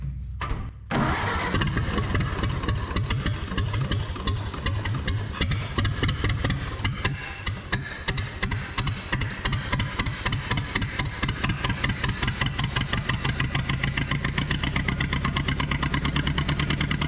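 A 1930 Ford Model A coupe barn find, long abandoned on a farm, cranks briefly with the choke on and then catches, running loud and close with a rough, rapid, uneven idle that continues steadily to the end.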